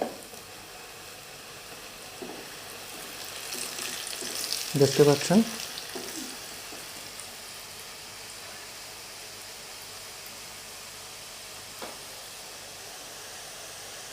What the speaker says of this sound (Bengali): এই স্টেপে আমি আমার এগুলো দিয়ে দিব, ভেজে নেব আমি এর ভিতরে আস্তে আস্তে করে।